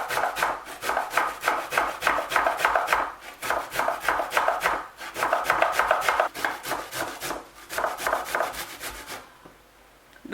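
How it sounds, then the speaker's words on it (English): Unpeeled garlic and ginger grated against a metal grater, a steady run of close, rapid rasping strokes in bursts with brief pauses, ending in near quiet. "use a grater and grate your garlic and ginger with the peelings"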